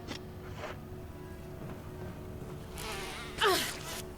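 Bees buzz in Resident Evil HD Remaster, the soft insect drone coming and going in short passes, with one louder, closer swell near the end, and no talking.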